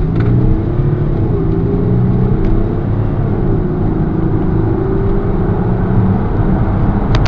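A 2007 Audi Q7 3.0 TDI quattro accelerating hard in sport mode during a 0-60 run, a steady, close diesel drone with rising engine tones as it builds speed, with a few faint ticks and no talk.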